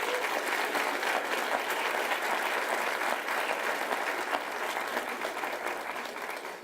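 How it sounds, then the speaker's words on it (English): Students and teachers at a school convocation applaud together, a loud, dense and continuous wash of clapping that stays steady throughout, easing slightly near the end. "students and teachers, please give yourselves a round of applause"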